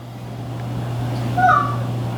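A cat gives a short, faint meow over a steady low electrical hum.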